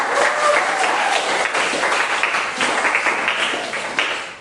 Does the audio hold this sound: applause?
yes